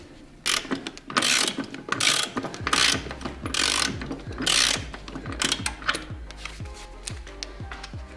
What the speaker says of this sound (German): Da schraubt man die 4 Inbusschrauben hier raus.